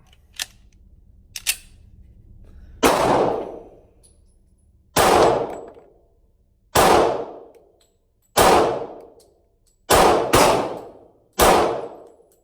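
A Smith & Wesson M&P Shield .45 ACP pistol fires seven sharp, loud shots at irregular intervals, the last three close together, after a couple of faint clicks.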